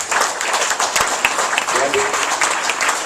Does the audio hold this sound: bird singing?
no